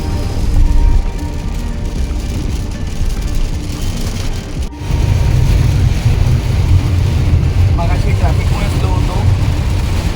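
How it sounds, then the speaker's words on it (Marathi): A truck drives along a wet road in the rain, a dense low engine rumble under constant spray and splashing hiss, loud and close, with a brief dip midway before the wash resumes. "तुमचा ट्रक एवढा पाणी उडवत आहे"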